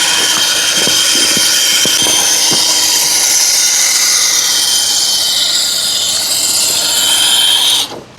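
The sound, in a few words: cheap brushless RC car driving at full throttle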